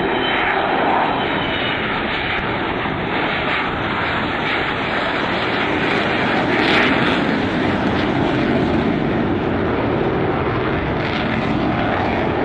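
Avro Vulcan bomber at the Bournemouth air show, its jet engines roaring loud and continuous throughout, a broad sustained rumble with a swelling surge midway.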